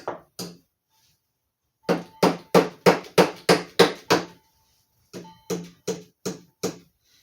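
Hammer blows straightening a bent nail while taking apart a rotted Bolens 42-inch mower deck: two taps, then a fast run of about eight sharp metallic strikes, a pause, and five more, close and loud.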